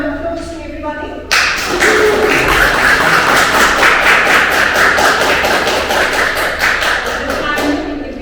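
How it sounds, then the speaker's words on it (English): Audience applause at a Toastmasters club meeting in Kuwait: dense, sustained clapping from a roomful of people starts abruptly and runs steadily for several seconds before tapering off, with a little talk at the edges. "another round of applause to everybody"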